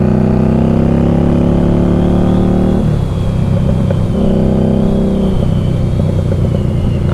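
A 2015 Harley-Davidson XG750 Street motorcycle engine accelerating on a test ride, loud close droning rev that climbs, drops at a gear change and climbs again, steady throughout.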